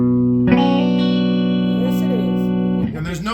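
An electric guitar played loud and clean through a 1962 Fender Bassman amplifier with no effects or reverb rings out as a single sustained chord for about two seconds before changing to a shorter, wavering phrase.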